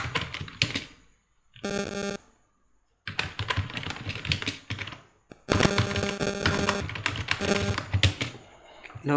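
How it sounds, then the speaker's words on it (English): A computer keyboard is typed on in several quick bursts of crisp clicking, separated by short pauses and heard up close with no talking. "So the first thing is to type your text."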